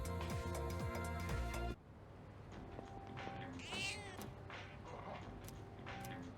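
Cat meows from the video game Persona 3 Reload, a few short, clear mewing calls after a loud burst of game music cuts off, heard over quiet background ambience.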